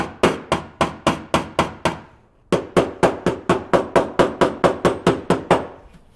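A slide hammer held under tension taps down the crowns on a metal panel being shaped before filler, giving a rapid run of sharp, evenly spaced metallic knocks, a brief pause, then another fast series, close and loud with no talk.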